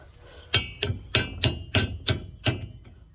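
A hammer taps a bolt into a hole during a budget LS engine swap: seven evenly spaced, sharp metallic knocks, close and clear.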